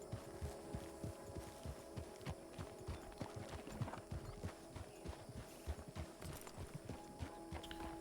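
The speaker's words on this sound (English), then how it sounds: "I don't think Casey deserves this horse anymore." Horse hooves clip-clop steadily on a path in Red Dead Redemption 2, a continuous walking rhythm of close, distinct hoof strikes over a low background hum.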